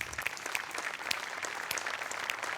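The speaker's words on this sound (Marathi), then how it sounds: "सगळ्यात आधी जोरदार टाळ्या" A studio audience at a Marathi comedy show claps steadily, with dense, even applause filling the short stretch and no voices over it.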